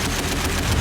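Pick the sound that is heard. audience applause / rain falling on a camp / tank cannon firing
tank cannon firing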